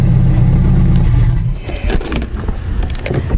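A stick-shift 1990–1993 CB7 Honda Accord engine cranks and catches, then idles roughly and revs, loud and close with no voices.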